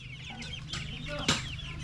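Chickens cluck in short, repeated calls at a market, with a louder squawk near the end over a steady low hum.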